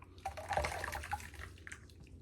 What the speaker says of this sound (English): my brush is rinsing, soaking